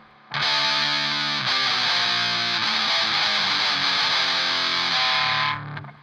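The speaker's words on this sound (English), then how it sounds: "One of the most notorious distortion pedals is the Boss Metalzone" A heavily distorted electric guitar chord through a Boss Metalzone distortion pedal rings out loud and sustained, buzzing and saturated, with a brief change partway through before cutting off.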